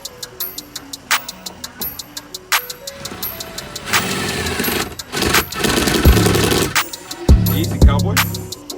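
A 2019 Yamaha FX SVHO jet ski with a Riva air intake and blow-off valve, tuned with Maptuner X, cranks and fires with ticking clicks, then runs in loud revving surges with sharp pops, close by.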